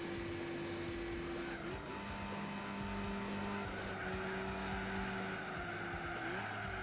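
A race car in Gran Turismo 4 on the PS2 roars steadily with nitrous engaged, its engine note holding a sustained whine with gear shifts audible throughout, loud and continuous with no talking.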